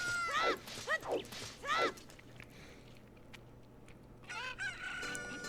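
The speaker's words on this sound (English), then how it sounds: "I'm waiting for that Chooky Crow. There it is" A rooster crows in the video game Ocarina of Time, with a burst of sharp, rising calls followed by a quiet stretch, then another clear crow near the end.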